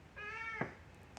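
A single drawn-out cat meow, clear and fairly close, rising and holding before ending in a brief sharper burst, with quiet room background and no talking.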